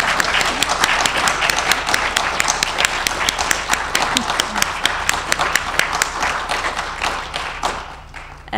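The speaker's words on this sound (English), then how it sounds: "Let's have a round of applause for them." Audience applause for two speakers at the close of a poetry reading, steady dense clapping from a room of people lasting throughout, with a few louder individual claps near the end.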